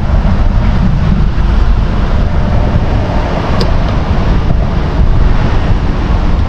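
Strong wind blows steadily outdoors, a loud continuous low rumble and buffeting across the microphone, with no speech.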